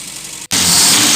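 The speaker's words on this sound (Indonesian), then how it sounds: "Nah, ini suara mesinnya." A 1980 Colt T120's engine humming steadily at idle after a metal bearing repair, broadband and constant, cut by a brief silent gap before resuming louder and brighter.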